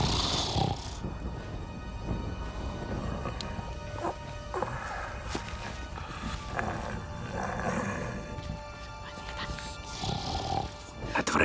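A man snores heavily in a night-time scene from a 2012 German-Austrian Beauty and the Beast fairy-tale film, with rough, rumbling breaths repeating over about eleven seconds, loud and close under a dense, noisy background.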